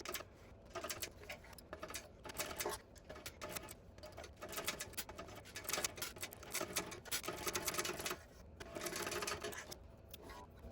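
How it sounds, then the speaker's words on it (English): A sewing machine stitches a tote bag seam, backstitching at each end. Rapid mechanical needle chatter comes in close bursts of varying length, broken by short pauses, with no speech. "I'm going to continue all the way up and backstitch at the beginning and the end"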